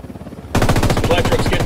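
In the video game Metal Gear Solid V, a machine gun opens up after a quiet moment with a loud, sustained burst of rapid automatic fire that continues to the end.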